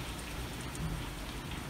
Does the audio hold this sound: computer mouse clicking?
no